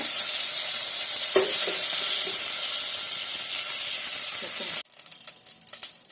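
Mustard seeds, cumin and dried red chillies frying in hot oil for a Cuddalore-style rice dish, giving a loud steady sizzle and hiss for nearly five seconds before dropping to a faint crackle with scattered pops.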